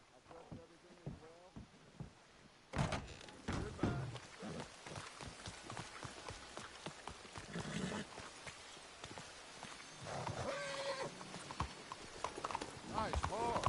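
Horse hooves in the Red Dead Redemption video game clip-clop in a steady galloping rhythm, close and clear, with in-game voices talking over the hoofbeats and a brief neigh.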